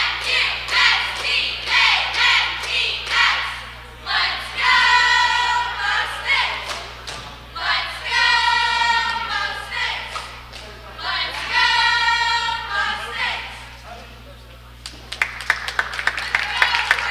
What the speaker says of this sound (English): here's your Portage Mustang cheerleaders cheering on their team